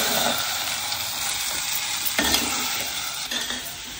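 Pumpkin kootu being stirred in a frying pan makes a steady soft sizzle with repeated scraping strokes of a spatula, close and fairly loud with no talk.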